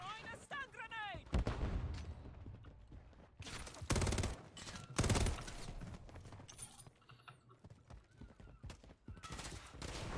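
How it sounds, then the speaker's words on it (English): Modern Warfare III game combat: a stun grenade goes off and is followed by loud bursts of gunfire and heavy impacts. Voices speak in between. "Throwing a stun grenade!"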